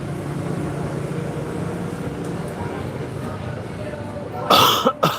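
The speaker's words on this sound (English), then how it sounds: "I'm coughing into my mic" A man coughs into a close microphone near the end, a sharp burst of a few harsh coughs rising over a steady low background murmur.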